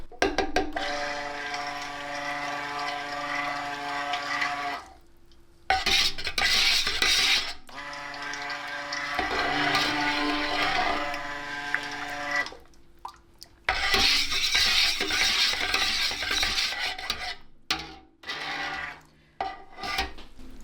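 A titanium dioxide mixture is stirred into soap batter, making scraping and rubbing against the container in long bursts broken by short pauses, close and moderately loud.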